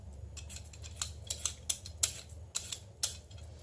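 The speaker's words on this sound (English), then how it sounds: "Now I'm going to take my vegetable peeler and I'm going to actually peel these" A vegetable peeler scrapes dirty vegetables fresh from the ground in a home kitchen. It makes a series of short, crisp scraping strokes, roughly one every half second, close and alone over a low background hum.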